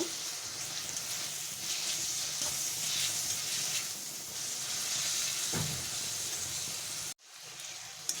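Chiti crab masala sautéing on a medium-low flame, a steady close sizzle and fry with occasional stirring scrapes, cutting off abruptly near the end.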